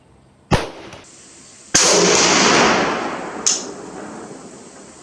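A French MAS 49 rifle fires three sharp, loud shots outdoors at uneven intervals, each crack followed by a long rolling echo that slowly fades.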